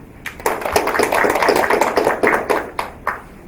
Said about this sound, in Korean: 한 분 한 분 소개해드릴 때마다 큰 박수 부탁드립니다